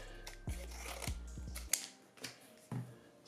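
A Pokemon booster pack card torn in a few sharp, close ripping bursts, with a low hum cutting out partway through.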